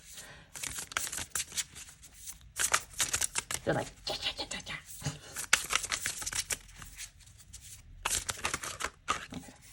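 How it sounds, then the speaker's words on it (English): Tarot cards shuffled by hand in repeated crisp riffling bursts, close and fairly loud, with a voice speaking briefly between the shuffles. "I do apologize if the cards are loud when I shuffle them."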